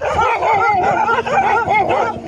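Many dogs at a dog centre in Namche Bazaar, Nepal, yip, whine and bark without pause, close and loud, with overlapping high wavering cries and no talking.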